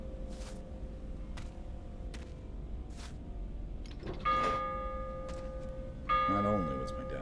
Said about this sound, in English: What's with all the bells?